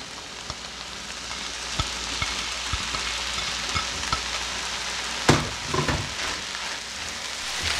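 Chiles and vegetables frying in a pan for stuffed rice, a loud, steady sizzle with scattered crackles and a few scraping stir clatters, one sharp knock near the end, no voices.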